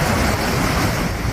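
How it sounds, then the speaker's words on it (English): Storm-driven ocean surf roars against the Santa Cruz Wharf in California, a dense, continuous wash of crashing water and wind, loud and unbroken throughout. "Massive waves plunging part of the Santa Cruz Wharf into the ocean"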